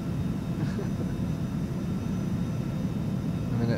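Steady, dense roar of airliner engines heard from the cabin during cruise in the X-Plane 12 flight simulator, continuous and even throughout with no talk over it.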